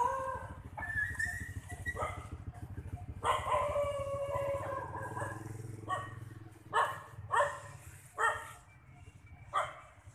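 Dogs bark repeatedly at the Bat Pagoda in Soc Trang, several sharp yaps and whimpers in irregular bursts over a low steady background hum, with no talking.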